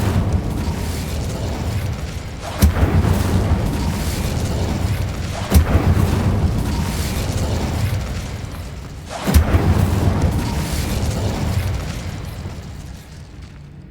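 Fiery spell bursts in Hogwarts Legacy, three sharp booming blasts spaced a few seconds apart, each rolling into a dense roaring whoosh of flame that carries steadily between them, loud and close.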